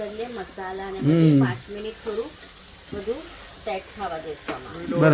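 Veg biryani stirred and mixed in a full pot of rice, with soft scraping and sizzling bursts at intervals beneath someone talking throughout.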